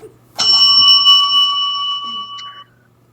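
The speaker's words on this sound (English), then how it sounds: "Hit the bell." A bell struck once, ringing out with a bright metallic ding that sustains for about two seconds before cutting off, loud and close with no talking.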